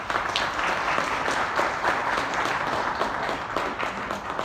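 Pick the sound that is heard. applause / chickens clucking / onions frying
applause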